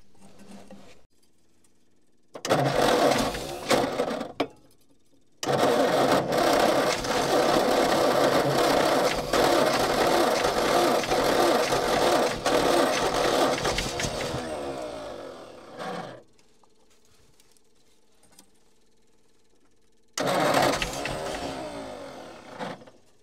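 Engine of an old tip truck, left sitting for over ten years, cranking on its starter motor in long whirring bursts separated by silence, a short burst, then a long sustained crank that winds down, then another burst.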